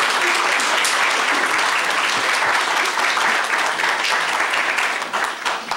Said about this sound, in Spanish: les pido por favor un fuerte aplauso para ella